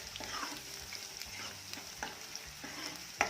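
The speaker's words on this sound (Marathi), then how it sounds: "तसेच यामध्ये मी टाकत आहे बारीक घेतलेला लसूण लसूण आणि कांदा छान फ्राय होऊया" Finely chopped garlic and onion fry in a pan for a Dhaba-style dal tadka, giving a steady close sizzle with light stirring scrapes and a sharper clink near the end.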